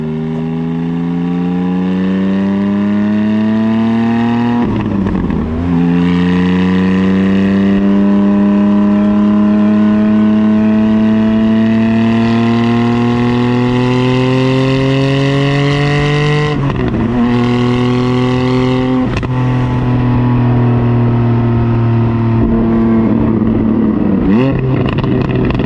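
Porsche 718 GT4 on a road drive, its engine note climbing steadily through the revs in long pulls, broken by a few brief gear-change dips, loud and close from inside the car.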